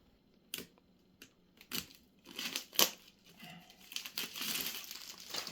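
Plastic wrapping crinkles and rustles as a gray box is unpacked, in irregular close bursts of crackling, with a few sharper rips and louder handling toward the end, and no talking.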